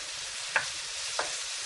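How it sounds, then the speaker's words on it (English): Onions frying in butter and olive oil for a tuna and mascarpone pasta, giving a steady close hiss of sizzling with two brief soft stirring taps, and no voices. "We want to cook all of this up until it's nice and tender, and it brings out the natural sugars of the onion."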